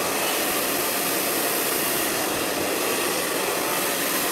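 A blow dryer drying hair in a salon gives a loud, continuous roaring whoosh that stays steady and close throughout, with no talking.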